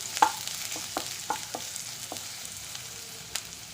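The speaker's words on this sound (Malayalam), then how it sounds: "ഇനി നമുക്കതൊന്ന് ഇളക്കി കൊടുക്കാം" Chopped onion being stirred in a pan, a soft low sizzle broken by a handful of light scraping clicks from a spoon, close but quiet.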